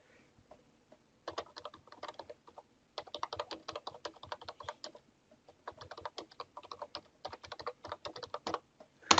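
Bursts of rapid clicking keystrokes on a computer keyboard, close and fairly quiet, coming in short runs separated by brief pauses, with one louder key strike at the very end.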